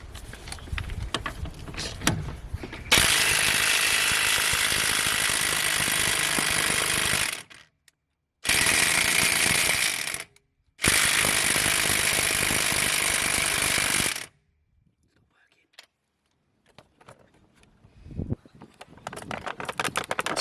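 A corded Parkside impact wrench loosening tight wheel lug nuts on a car: loud, continuous rattling hammering in long bursts of several seconds, separated by brief silences, followed by quieter handling noises.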